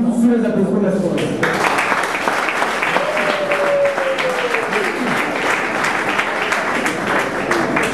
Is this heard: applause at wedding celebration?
yes